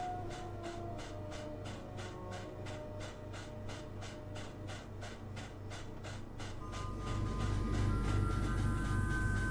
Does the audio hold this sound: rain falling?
no